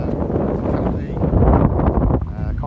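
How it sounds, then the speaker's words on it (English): Blustery, cold wind on the Scottish NC500 coast buffets the microphone in a loud, rumbling roar that rises and falls, with someone talking underneath. "It's a bit blustery, cold and windy today."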